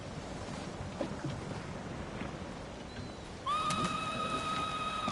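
Horse whinnying in Ghost of Tsushima: a loud, clear neigh bursts in partway through, over faint outdoor ambience with soft rustling and distant thuds.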